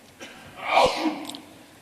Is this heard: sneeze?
yes